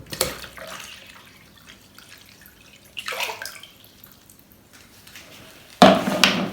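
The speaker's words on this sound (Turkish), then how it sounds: "Biraz daha su koyuyorum." Water poured into a homemade ayran churning machine, heard as a brief splash around three seconds and a louder, fuller pour near the end, with quieter handling noise between.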